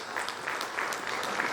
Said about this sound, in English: Vasu, come on everybody, give some clap.